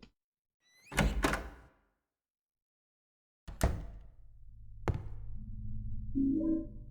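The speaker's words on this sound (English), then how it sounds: "Anyway, enter this door." A door opening in a Silent Hill 2 hospital: a heavy thunk and creak near 1 s, then another thud and latch around 3.5–5 s, followed by a low ambient hum in the video game.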